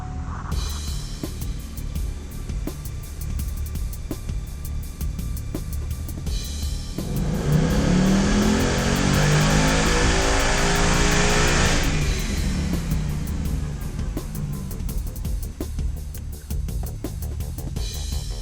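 Car engine revving hard on a dyno during a final test run, a loud sustained roar that climbs to a strong peak mid-run and then drops back to a steady rumble.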